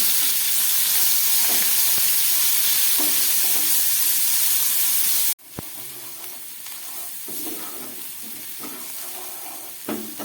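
Onion paste frying in a pan with nigella seeds, sizzling and hissing steadily at close range with occasional stirring scrapes, the sound dipping briefly midway before carrying on.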